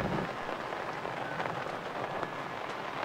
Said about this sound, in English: maybe it's pouring down rain, so we're going to take a break